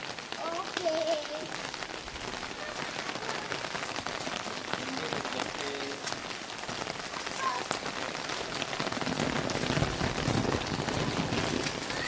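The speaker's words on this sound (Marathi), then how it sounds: "पाऊस खूप पडतो आहे गावाकडे भरपूर पाऊस आहे" Heavy monsoon rain pours on a Konkan village, a dense continuous hiss of drops on surfaces close by, with birdsong and faint voices in the background.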